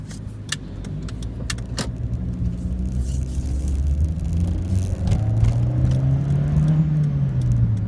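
A car driving through Chiang Mai, its engine rumble and road noise building steadily, with a rising whir as it accelerates and a few light rattles or clicks inside the cabin early on.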